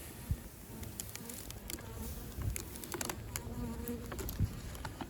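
Honeybees at an opened conversion hive during a mini nuc inspection, a soft continuous buzz with faint clicks and light handling knocks of frames close by.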